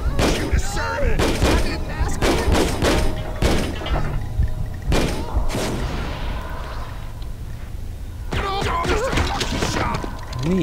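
Gunfire in an FBI hostage rescue video game, with rapid bursts and single heavy shots, loud and close, mixed with voices talking over the action.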